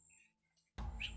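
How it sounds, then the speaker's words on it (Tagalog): A bird lets out a loud squawking call in a burst, heard close after a moment of quiet with faint background sounds. "Kasi tingog sa bird."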